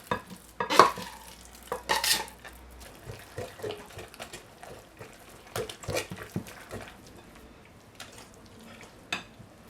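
Raw shrimp are mixed into Caribbean fritter batter, giving wet, sloppy stirring and irregular scrapes against the bowl, close by, with a few louder knocks early on.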